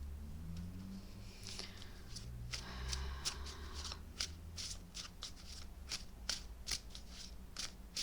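Tarot cards are shuffled in quick riffling bursts, crisp papery flutters and snaps repeating close by with no talking.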